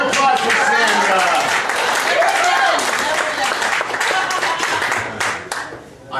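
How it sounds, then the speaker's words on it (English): Audience at a magic show bursts into loud, sustained applause and clapping, with cheers and voices mixed in, fading slightly toward the end. "Big round of applause for Zemra."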